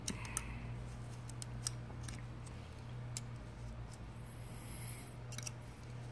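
Pinking shears snipping through fabric edges in a few sharp, crisp clicks scattered over a quiet, faintly humming room.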